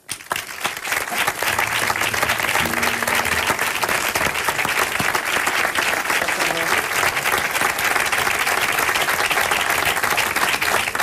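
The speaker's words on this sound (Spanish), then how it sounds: "Yo pido un fuerte aplauso para David Pino." An audience at a flamenco forum gives a loud, sustained ovation for a singer, dense clapping from many hands that rises at once and holds at full strength for about ten seconds, with faint voices underneath early on.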